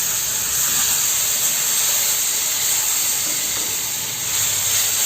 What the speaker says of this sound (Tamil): கொதிக்கிற தண்ணி தான் ஊற்றணும்